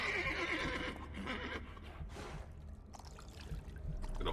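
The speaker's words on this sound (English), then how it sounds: "Got a hungry horse." A horse in The Witcher 3 whinnies loudly and close, a shaky, falling neigh over a soft trickle of water, with hooves clopping faintly beneath and no talk.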